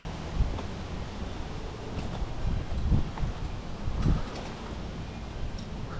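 Steady outdoor wind rushing and buffeting against the microphone, with low rumbling gusts swelling every second or so, no voices.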